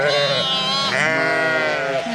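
Loud, wavering bleats from a lamb with a broken leg close by, several calls running together with a few shorter cries, over a low background murmur.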